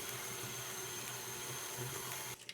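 A stand mixer fitted with a wire whisk beating eggs into cookie dough for chocolate crinkle cookies, a steady close motor whir that cuts off abruptly near the end.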